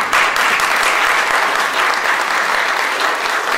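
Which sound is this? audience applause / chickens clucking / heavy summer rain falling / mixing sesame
audience applause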